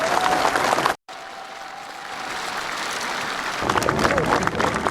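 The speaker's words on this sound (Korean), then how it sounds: "여러분 박수로 한번 격려해 주시기 바랍니다." Loud crowd applause with a brief dropout, then steady clapping and cheering swelling again toward the end.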